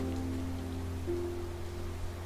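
Steady rain falls in the Genshin Impact game, a soft, even hiss that holds throughout beneath a low, sustained tonal hum, with no voices.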